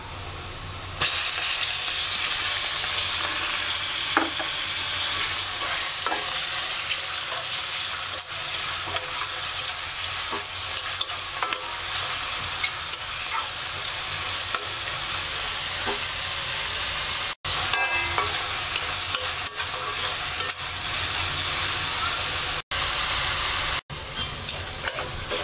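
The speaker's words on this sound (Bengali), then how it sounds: "এবার পেঁয়াজের সাথে চিংড়ি মাছটা দিয়ে কিছুক্ষণ ভেজে নেব।" Prawns fry with chopped onion in oil in a wok: a continuous, close, loud sizzle with frequent stirring clinks, broken by a few momentary dropouts.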